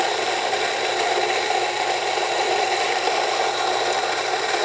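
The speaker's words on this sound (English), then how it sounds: "Grind them a bit." Rancilio Rocky coffee grinder grinding beans with its burrs set to 30, during diagnosis of a grinder issue; a steady, loud, dense grinding whir runs unbroken from start to end.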